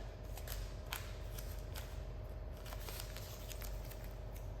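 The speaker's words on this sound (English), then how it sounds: "This is normally where I like to get a little tape involved" Tape is pulled and pressed around the hood scoop of a 2025 Chevy 2500 ZR2 to protect the paint, giving soft, quiet crackles and light ticking sounds in an irregular pattern, with no voices.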